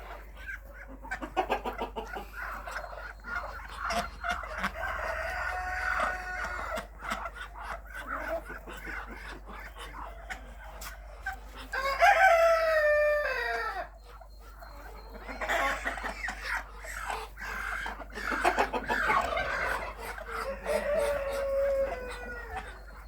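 Bantam chickens and other poultry in a yard cluck and chatter near and far in overlapping bursts, with a louder crow-like call rising in the middle over steady background hum.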